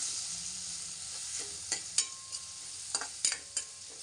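Fish masala sautéing in hot oil for a spicy crab curry: a steady close sizzle with a few sharp scraping stirs of a spoon against the pan, no voices.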